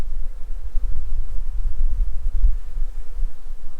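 Agitated honey bees packed in a crowded hive box give a deep, steady droning hum, close and loud, with gusty low rumbles and no voices.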